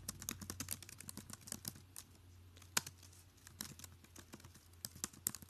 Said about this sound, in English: I would type in participation achievements worksheet